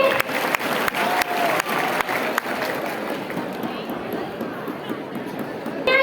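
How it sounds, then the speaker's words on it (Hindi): Crowd applause at an eighth anniversary celebration, with sharp claps over a steady wash of many hands and murmuring voices that loosens into hubbub toward the end. "जोरदार तालियां होनी चाहिए।"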